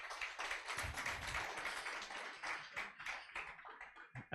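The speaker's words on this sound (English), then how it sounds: "Please, a round of applause for him." Scattered clapping from a crowd, a dense patter of hands that stays fairly faint and distant, fading a little toward the end.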